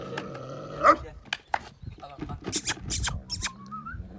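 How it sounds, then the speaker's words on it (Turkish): Dogs at a village farmstead bark in several sharp, uneven bursts near the microphone, mixed with people talking and some handling noise. "nasıl korkunç oluyorlar havlarken"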